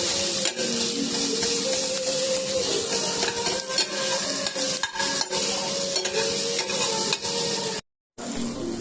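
Onion fries and is stirred in a pan with little oil ahead of chicken going in, a steady close sizzle running throughout with scraping stir strokes, broken by a brief silent gap near the end.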